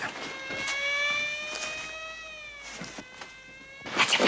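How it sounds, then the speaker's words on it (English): Rising and falling police car siren wail in a 1971 drama scene, heard at a moderate distance under faint background noise with soft rustles. "That's a police car."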